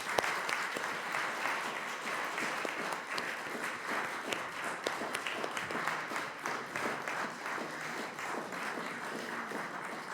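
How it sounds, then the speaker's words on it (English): Steady audience applause fills the room at a memorial event after a music performance, many hands clapping densely and evenly for about ten seconds with no voices over it. "I think we can do some applause at this point."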